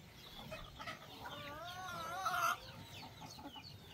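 Native chickens cluck softly at a short distance, with one drawn-out wavering call rising midway before fading back to quiet outdoor ambience.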